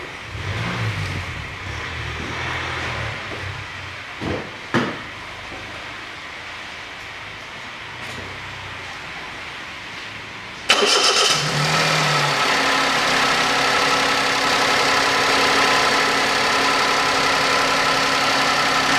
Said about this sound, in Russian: завожу автомобиль